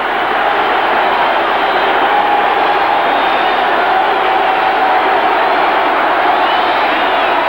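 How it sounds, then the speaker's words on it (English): Dense crowd roar fills a football stadium during an Oklahoma Sooners versus Minnesota Golden Gophers game, a steady loud wall of cheering that holds without a break from start to finish. "This crowd is alive."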